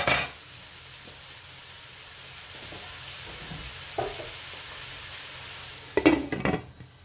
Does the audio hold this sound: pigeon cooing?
no